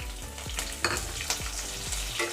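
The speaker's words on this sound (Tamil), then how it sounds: "கடுகு பொரிய ஆரம்பிச்சு இப்போ வெங்காயத்தையும் சேர்த்துக்கலாம்" Onions frying in a pan with spluttering mustard seeds for South Indian sambar, a close busy sizzle with sharp crackling pops and a few stirring scrapes.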